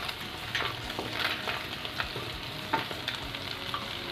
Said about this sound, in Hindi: 1 teaspoon ginger finally chop, 1 teaspoon garlic finally chop, 1 teaspoon green chilli finally chop और इसे अच्छे से मिक्स करें